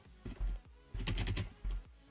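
Typing Python code on a computer keyboard: a few close, quiet key clicks in short bursts with brief pauses between them.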